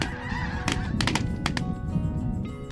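A flock of white-fronted and snow geese honks continuously during a waterfowl hunt, a dense chorus of overlapping calls with several louder nearby honks standing out.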